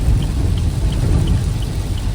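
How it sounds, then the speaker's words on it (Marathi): Heavy rain pours over a car on a highway drive, a dense, loud, continuous roar of drops drumming on the vehicle, steady throughout with no voices. "समोरचा काय दिसत नाही, एवढा बेकार पाऊस आहे."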